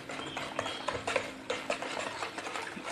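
Homemade coconut liquid soap being stirred in a basin close by, a quick rhythmic series of soft swishes and clicks.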